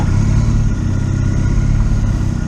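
A BMW R1250 RT motorcycle engine drones loudly and steadily close by, a continuous mid-pitched rumble as the bike rides along.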